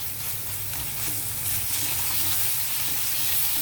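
Ginger garlic paste sautés in a pan for a tomato and yellow cucumber curry, giving a steady close sizzle with faint stirring scrapes that holds evenly throughout, with no one speaking.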